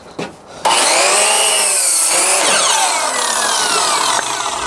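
A power saw cuts through a piece of wood for a DIY wooden Christmas tree, starting abruptly after a brief lead-in and holding a loud, continuous whining cut for about four seconds, close to the microphone, with no voices.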